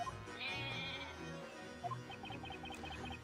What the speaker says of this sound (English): There isn't a cuter little goat in this entire courtroom